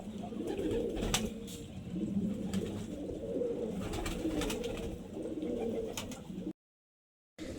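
High-flying pigeons in a home loft give soft, repeated throaty coos over a steady low murmur, fairly near and alone, before a brief silent gap near the end.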